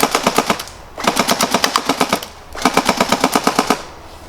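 A Tokyo Marui AA12 airsoft shotgun fires on full automatic at a bottle, three loud bursts of rapid, evenly spaced shots with brief pauses between them and no talking.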